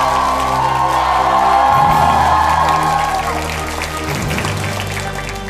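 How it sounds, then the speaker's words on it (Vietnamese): Studio audience applause and cheering welcoming the judges on a Vietnamese televised singing competition, loud and sustained with a dense crowd roar that eases slightly toward the end. "Chúng ta hãy dành một tràng pháo tay thật lớn để chào đón họ"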